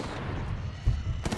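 Wingman Elite pistol fire in Titanfall 2 cracks out in a few short, punchy shots near the end, preceded by low rumbling game noise.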